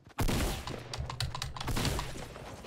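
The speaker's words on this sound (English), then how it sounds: "Damn, two shots with a shotgun?" Two close shotgun blasts in the video game Fortnite, sharp broadband cracks over a dense, noisy game background, followed by a rapid burst of further clattering shots.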